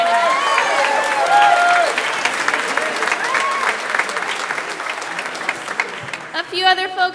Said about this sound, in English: please give her a round of applause for joining